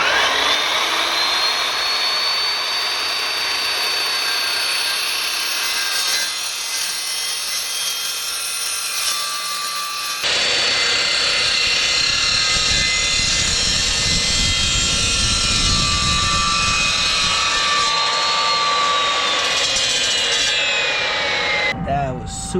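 An Evolution S355 MCS cold cut chop saw with a mild steel blade cuts mild steel, a loud, continuous high-pitched whine and grind lasting over twenty seconds, deepening partway through as the blade bites, with a voice faintly underneath.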